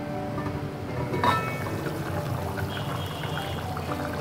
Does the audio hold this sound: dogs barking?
no